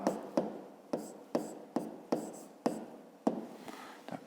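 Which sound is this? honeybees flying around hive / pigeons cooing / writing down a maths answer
writing down a maths answer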